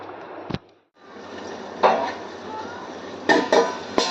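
Boiled vegetables with tempering stirred in a pan: a metal spoon scrapes and clatters against the pan in several close, distinct strokes between soft sizzling.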